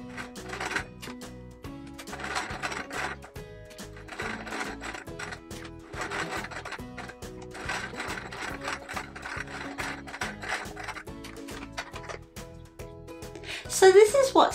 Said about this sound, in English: I'm going to start stitching the wheelbarrow and work my way around her body.